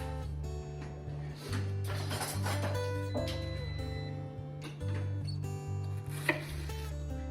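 A kitchen knife slices through a head of cabbage in a series of crisp crunching cuts, close and fairly quiet, with background music playing throughout.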